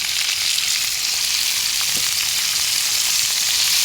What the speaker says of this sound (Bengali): আমি এই মুহূর্তে এখানে পেঁয়াজের কড়িটা করে দিলাম